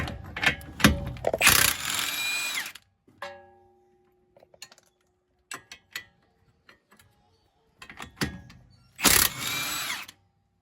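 Metallic clanks and ratcheting clicks of a wrench working on 22 mm front strut bolts of a 2016 Toyota Corolla come in short bursts, with louder grinding spurts and quiet gaps between.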